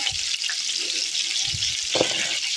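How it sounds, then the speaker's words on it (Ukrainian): A steady, bright sizzle of flour-dredged food frying in a pan, continuous hiss throughout with occasional soft clinks and knocks nearby. "Як смачненько смажиться."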